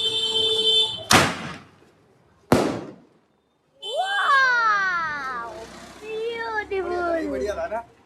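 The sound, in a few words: sky shot firework being set off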